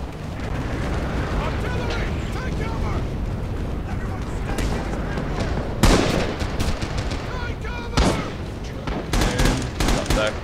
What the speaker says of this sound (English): Japanese artillery